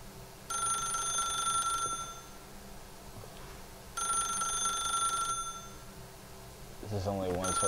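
A telephone rings twice in the video game The Stanley Parable, each bright electronic ring lasting over a second, separated by a pause, with a voice starting at the end.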